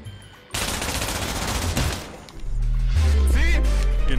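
Rapid bursts of automatic gunfire in the VR shooter Pavlov VR, a dense fusillade for about two seconds, then louder booming crashes and game noise with voices chattering over it.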